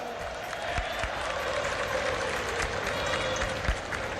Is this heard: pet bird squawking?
no